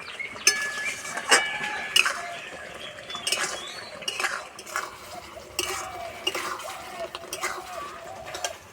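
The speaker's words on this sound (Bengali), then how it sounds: "তো এইভাবে নাড়তে হবে নাহলে তলাতে লেগে যাবে" A spoon scrapes and clinks against a pan while tomato pickle is stirred to keep it from sticking, with repeated close metallic taps and scraping strokes in an irregular rhythm and no voices over it.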